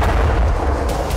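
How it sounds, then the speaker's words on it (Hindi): A loud, deep roaring explosion rumble fills the whole moment, heavy low booming with a dense, sustained noise and no voices. "जोरदार धमाके के साथ आसमान में उठता बारूदी ज्वाला का ये गुबार"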